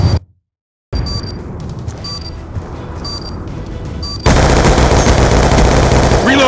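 Automatic gunfire rattles continuously in a video game shootout, close and loud. A short silence breaks it near the start, and the firing grows heavier toward the end.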